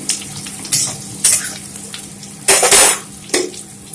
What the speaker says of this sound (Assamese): অলপ সময় এইখিনি ভাজি থাকিম